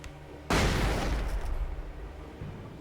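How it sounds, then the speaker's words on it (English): A flashbang grenade detonates in the video game Alan Wake with a sudden loud broadband blast, followed by a dense, rumbling roar that lingers and slowly fades over the next couple of seconds. "Flashbang."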